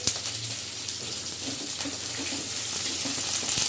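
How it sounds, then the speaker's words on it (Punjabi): Long-sliced onions fry in hot oil with a steady, close sizzle and crackle and a few faint spatters. No one speaks. "ਤੇਲ ਹੋ ਗਿਆ ਗਰਮ ਤੇ ਮੈਂ ਲੰਬੇ ਲੰਬੇ ਪਿਆਜ਼ ਦੇ ਦਿੱਤਾ"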